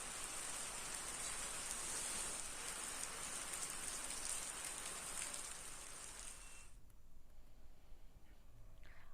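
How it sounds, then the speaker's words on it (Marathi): Heavy monsoon rain in Ambernath or Ulhasnagar, Maharashtra, pours down in a dense, steady hiss that drops off sharply toward the end, leaving quieter patter. "अंबरनाथ असेल किंवा उल्हासनगरमध्ये जोरदार पाऊस आहे"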